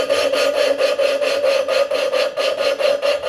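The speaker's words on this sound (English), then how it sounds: "So now that we've lapped it a little bit, turned it a few times, you could hear the pitch change as the compound breaks down." An engine valve is lapped into its seat with grinding compound, a steady gritty rasping swish repeating in quick back-and-forth strokes, close and fairly loud, with no talk.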